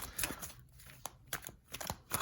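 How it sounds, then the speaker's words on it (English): A deck of cards is shuffled in quick bursts, with soft riffling flutters and brief snaps at irregular intervals, close and fairly quiet, with no talking. "let's get these cards shuffled up"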